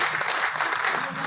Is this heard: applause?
yes